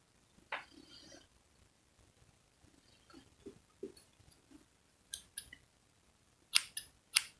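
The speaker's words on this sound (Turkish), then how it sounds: "İpimi kesiyorum." Sharp scissor snips cutting thread for a handmade jewelry tassel, a few scattered crisp clicks with soft handling rustles between them, close and alone.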